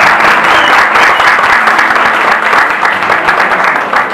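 Loud, sustained audience applause at a private school's Teachers' Day celebration, a dense continuous roar of clapping with no break.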